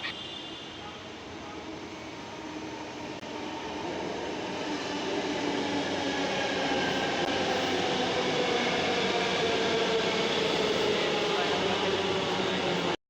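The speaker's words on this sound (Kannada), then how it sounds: "ಮೆಟ್ರೋದಲ್ಲಿ ಟ್ರಾವೆಲ್ ಮಾಡ್ತಾ ಇದೀವಿ" A Yellow Line metro train hums and rumbles steadily from inside the carriage, the whine of motors gradually rising as it picks up speed; no clear voices.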